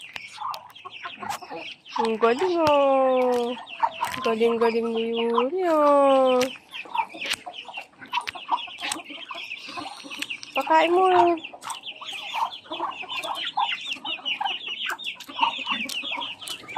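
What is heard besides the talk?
chickens clucking while being fed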